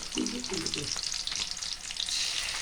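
Small onions and four garlic cloves sautéing in a pan for a mushroom kurma, a loud continuous sizzle with stirring scrapes, close and alone without voices.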